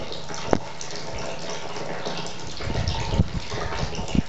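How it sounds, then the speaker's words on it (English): Maple sap pours fast through a tube into a 210-gallon holding tank, a steady near gushing splash of liquid with a few louder knocks and sloshes, no speech. "There goes all that sap into the tank. It's really running fast today"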